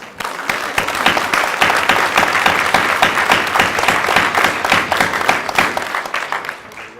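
A crowd at a police promotion ceremony for new sergeants applauds steadily and loudly for about seven seconds, the dense clapping tapering off at the very end.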